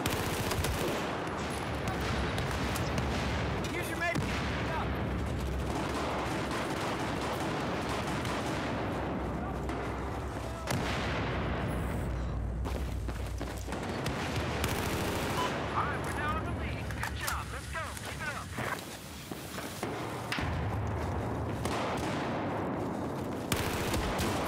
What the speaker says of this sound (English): Shotguns.